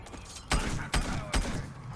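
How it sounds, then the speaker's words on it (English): Captain Sharkbite's weapon fires in the video game Plants vs Zombies Garden Warfare 2: three evenly spaced, punchy shots about 0.4 seconds apart, loud and close over a mechanical game background. "that's as fast as he can shoot with 12 ammo"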